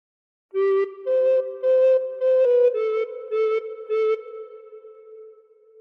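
A recorder plays a phrase of The Star Spangled Banner, seven or so tongued notes stepping between a few close pitches at a moderate pace, near and clean, the final note trailing off, with no speech.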